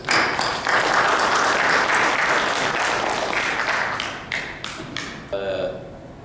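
An audience claps to welcome a former ambassador coming up to lecture, a dense burst of applause that thins into scattered claps before fading out near the end.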